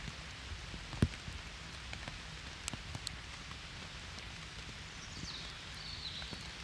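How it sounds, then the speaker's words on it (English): Rain falls steadily on a woodland wild campsite, a soft, even hiss with scattered heavier drips and a few sharper taps close by, fairly faint overall. "You can hear the rain now, I'm sure."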